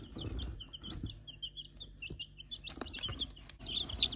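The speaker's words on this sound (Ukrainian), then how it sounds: "Курчатка аміраукана" Ameraucana chicks clucking and chirping repeatedly close by, soft murmuring calls over a low background rumble, with a few sharper peeps toward the end.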